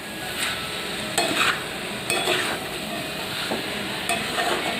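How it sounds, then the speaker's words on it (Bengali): Spiced meat being stirred in a pan as it cooks, a steady sizzle of frying beneath repeated scraping strokes of a spoon against the pan, close and fairly loud, with no talking. "এটা আমি আবার ভালো মতো করে নাড়িয়ে নেব।"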